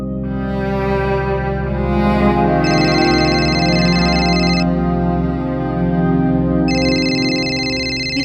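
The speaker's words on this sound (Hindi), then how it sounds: "दीदी आपका फोन बज रहा है।" A mobile phone rings in a domestic TV drama scene with two electronic ring bursts over a steady musical background, fairly loud and clear.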